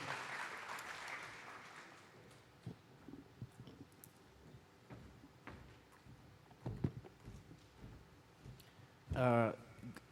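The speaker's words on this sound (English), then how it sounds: "Can they have a hearty round of applause?" Faint, scattered clapping from a distant conference audience at a blockchain conference session fades in and out under room noise, ending with a brief louder burst.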